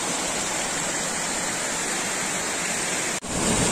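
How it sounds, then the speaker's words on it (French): A waterfall in the French countryside pours over a drop in a steady, loud, broadband rush of falling water, with a brief dip near the end. "Et là-bas, ça se jette dans le vide. Les cascades."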